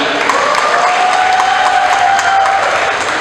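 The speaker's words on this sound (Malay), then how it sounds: "berikanlah satu tepukan lagi kepada mereka" A crowd in a hall applauds national badminton athletes at an incentive ceremony in Penang, loud continuous clapping with a faint tonal hum running through it.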